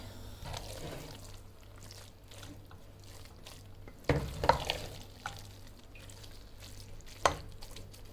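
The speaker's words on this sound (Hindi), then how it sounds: "इसमें अब मैं डालूँगी साग डाल के साग के साथ मैं इसको अच्छे से मिक्स करूँगी, भूनूँगी" Saag greens and tuna fish being stirred and fried in a pot, with a low sizzle under intermittent scraping and clanking of the spoon; quiet and close with a couple of sharper knocks.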